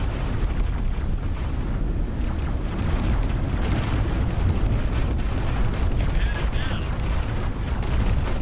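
Station turrets fire during a space battle in X4: Foundations, a dense, continuous barrage of booms and bursts rumbling loudly and steadily throughout with no clear gaps.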